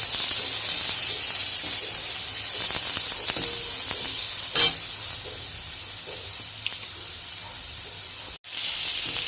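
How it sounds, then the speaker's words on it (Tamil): Onion, asafoetida powder and curry leaves sauté in oil over medium heat for a banana flower dish, giving a steady, close, bright sizzle with a short louder burst midway and no talk. "இதை மிதமான தீயில வச்சு வதக்கணும்"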